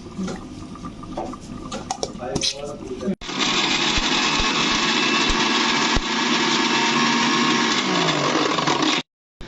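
Blender grinding almonds with a splash of milk into a paste for a marinade: after a few seconds of voices and handling, a loud, steady whirring roar runs close and continuous for about six seconds before cutting off abruptly.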